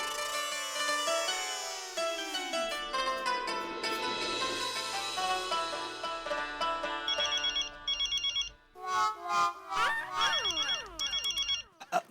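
A mobile phone ringtone rings from inside a trouser pocket, a loud, continuous electronic melody of bright repeating notes that grows choppier toward the end.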